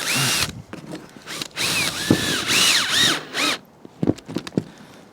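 A power drill drives screws into a cladding batten in several short whirring bursts that rise and fall in pitch, separated by brief pauses and small knocks, close up.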